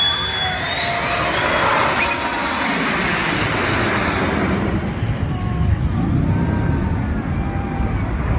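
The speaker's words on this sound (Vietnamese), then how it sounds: "là một chiếc máy bay đang bay trên trời đúng không nào?" An airplane flying overhead, a broad continuous roar that swells and then slowly fades as it passes, steady and fairly loud with no voices.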